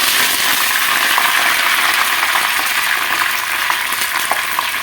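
Steady, dense sizzling of mustard seeds and shallots frying in hot oil, with occasional pops and crackles, close and continuous throughout.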